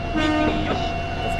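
A tram's horn sounds in the Densha de Go rail simulator game set in Kyoto, a brief steady tone over the rumble of the train.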